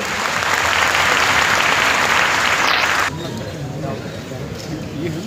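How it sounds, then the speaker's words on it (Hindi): A Constitution Day audience bursts into loud, dense applause for about three seconds, then it cuts off abruptly to a quieter murmur of the crowd. "जोरदार तालियां इस बात के लिए।"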